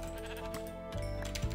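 A Minecraft sheep bleats when struck, a short wavering cry followed by a second bleat, set against a busy layer of game music and sound effects.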